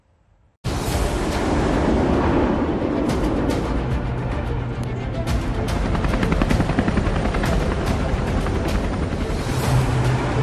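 Military helicopters in an Indian Army flypast marking 75 years of independence, a loud rotor roar that starts abruptly and holds with rapid chopping pulses.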